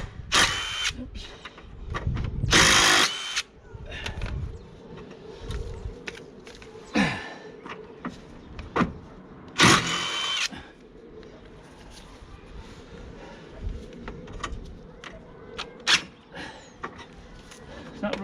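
Power tool undoing rusty bumper nuts on a 1995 BMW E36 318i: two loud, close bursts of high-pitched whirring, each a second or so, separated by quieter handling clatter and small clicks.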